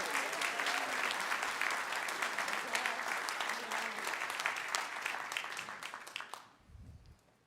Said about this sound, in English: So a big round of applause to Morgan, Tony's, and the guys Saltfish for the please.